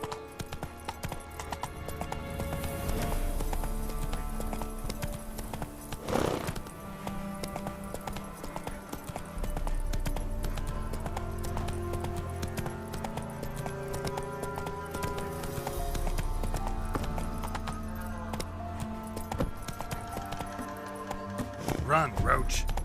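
Hooves of Roach, the horse in The Witcher 3, beat a fast, steady galloping clip-clop through most of the stretch. Game music and ambient sound run underneath, and a brief whinny and a spoken line break in.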